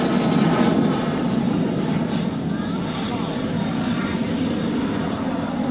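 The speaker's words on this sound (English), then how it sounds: "After that, he was training in the A-6 Intruder. Here he comes in a typical bomb run, low altitude, low angle bomb run." An A-6 Intruder jet aircraft flying a low-altitude, low-angle bomb run, heard as a steady loud roaring jet rumble throughout, with someone narrating over it.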